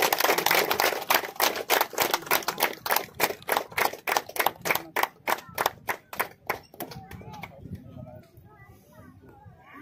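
Spectators at a police passing out parade clapping in a fast, steady rhythmic unison that slows, thins out and stops, with voices and chatter heard as it ends.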